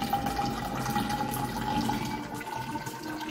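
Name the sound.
distilled water poured into a container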